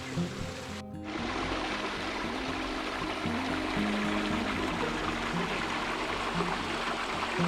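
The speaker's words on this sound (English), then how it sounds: "The waterfalls and rapids of the stream flowing out of Mizzy Lake provide a nice setting" Stream rapids and small waterfalls pour steadily out of Mizzy Lake in Algonquin woods, a continuous broad rush of moving water heard close and fairly loud throughout.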